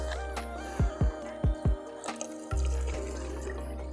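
Water poured into a measuring cup in short splashing bursts, then a steadier running pour near the end, close and fairly loud with no talking.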